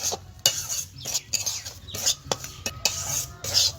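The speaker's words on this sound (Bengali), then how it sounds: "আর সুজিটাকে আমি বেশি লাল করে ভাজবো না, কোনো মতে হালকা লাল করে ভেজে তুলে নেব" Semolina dry-frying in a pan for steamed bhapa pitha, with scraping spoon strokes and clinks against the pan at an irregular pace, close and moderately loud, with no voices.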